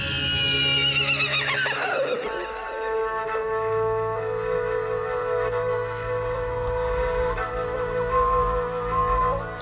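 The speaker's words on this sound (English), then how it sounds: "is horse racing" A horse gives a loud, drawn-out whinny at a horse racing event during the Ysyakh summer festival in Yakutia, followed by a sustained tone and faint background activity.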